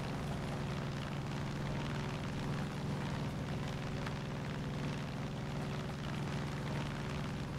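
Enemy planes droning overhead in the Far Cry 5 video game, a steady, fairly loud engine roar with a low propeller hum that holds throughout.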